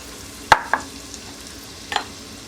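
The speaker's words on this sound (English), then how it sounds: "now that the butter and the olive oil has melted, I'm going to drop in the onions" Onions dropped into melted butter and olive oil in a pot give two sharp knocks close together, a quiet low sizzle, then another brief clatter of stirring.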